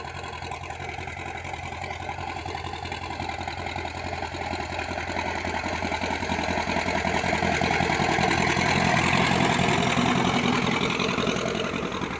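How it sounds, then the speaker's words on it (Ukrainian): A YuMZ tractor engine runs steadily and loudly close by, a chugging mid-pitched drone that swells slightly partway through, no voices. "трактор ЮМЗ."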